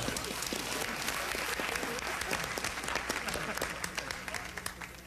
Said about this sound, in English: Don't stop! Keep up the clapping!